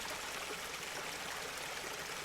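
River water gently scooped and trickling into a clay pot, a soft continuous watery wash and dribble heard close and alone throughout.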